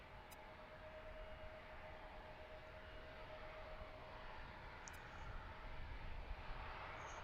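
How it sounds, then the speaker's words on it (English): A Delta Connection airliner lands on runway 36 center at a busy cargo airport, heard as a steady, distant jet roar with a faint whine that swells slightly toward the end. "There's Delta connection landing on 36 center."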